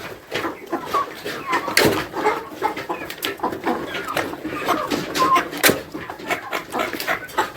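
A flock of broiler chickens clucking and pecking busily at feed, many soft calls and sharp taps overlapping in a steady, close-up chatter.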